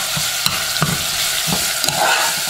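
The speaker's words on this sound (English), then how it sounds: "And just saute it for about a minute as well" Onion-free sauté of dried bay leaves and thyme in a pan for Haitian baked red snapper, a soft sizzle under repeated scraping stir strokes at a steady pace.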